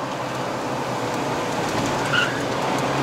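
A 2013 Mazda CX-5 2.0L 2WD labors on a hill climb toward Genting in Malaysia, its engine a steady, loud broadband drone with road noise and no talk.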